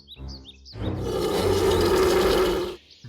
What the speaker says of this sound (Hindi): आपकी एक दहाड़ सब कुछ हल कर देगी।